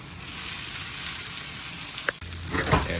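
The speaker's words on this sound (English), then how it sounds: "And fry them up." Potatoes and vegetables fry in a pan with a steady close sizzle throughout, and a sharper burst of crackling and stirring toward the end.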